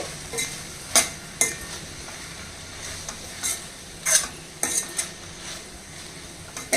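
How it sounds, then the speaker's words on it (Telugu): A spoon clinks against a pan in irregular sharp scrapes and taps as a spoonful of chili powder is mixed into a vegetable curry, over a faint background sizzle and with no talking. "ఇదిగోండి ఒక స్పూన్ కారం వేస్తున్నాను ఒక స్పూన్ సరిపోతుందండి ఇప్పుడు బాగా కలిపేయాలి"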